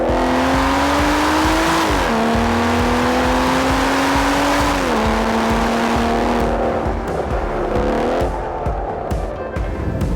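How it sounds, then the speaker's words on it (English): An Aston Martin engine revs hard under load, its pitch climbing and dropping through gear changes, with loud, continuous exhaust roar and some tire noise close up and no talking. "when you press the sport button or when you flip a paddle on your own and lean on the noisy pedal, it sings the song of the Aston Martin"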